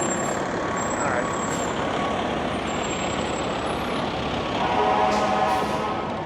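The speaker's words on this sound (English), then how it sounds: "This is the Foggy Bottom truck, engine 23, which is just nearby." Foggy Bottom fire truck, engine 23, idles nearby on a rainy Washington DC street, a steady low diesel rumble with a faint hiss of air brakes and traffic wash.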